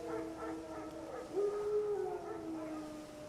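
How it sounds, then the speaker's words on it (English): Wild dogs howling in The Witcher 3, a wavering, drawn-out howl rising over a dim game ambience, distant and moderately loud, with overlapping whines. "Wolves? No. Wild dogs."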